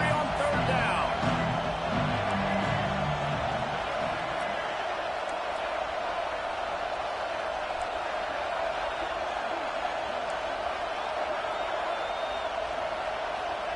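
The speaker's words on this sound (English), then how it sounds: "Sooner fans booming, a cacophony of noise at the Palace on the Prairie on 3rd down" Oklahoma Sooner football fans roar in a packed college stadium on third down, a constant broad wall of crowd noise with a voice briefly audible at the start.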